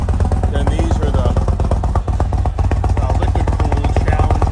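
Indian motorcycle engine with its exhaust running at a steady idle, a loud, continuous low rumble with fine rapid pulsing and faint clatter, close and unbroken throughout.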